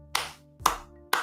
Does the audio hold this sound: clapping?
yes